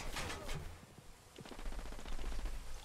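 Bursts of rapid gunfire in the video game Ghost Recon Wildlands crackle in quick rhythmic volleys, a short burst early then a longer sustained stretch, fairly loud with no talking.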